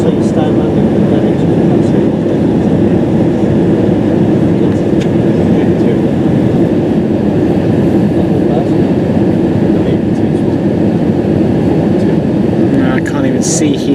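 Inside the cabin of an Easyjet Airbus A320 landing at London Gatwick, a loud, steady broadband roar of engines and airflow fills the space without a break.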